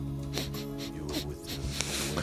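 A voice mimics a dog sniffing: several quick, breathy snorts in a row, close up, over a steady musical background.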